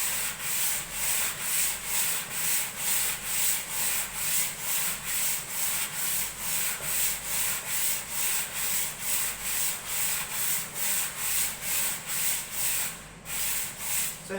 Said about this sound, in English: literally 30 seconds of sanding, and I've already picked up all the low spots